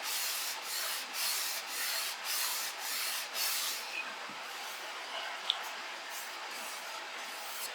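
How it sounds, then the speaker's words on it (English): Fine 320 grit sandpaper rubs along the seam of a bookmatched guitar top, soft steady back-and-forth strokes in a regular rhythm, then a quieter continuous scratchy hiss, close and fairly faint. "I got 320 grit sandpaper on here because I'm trying to keep that seam"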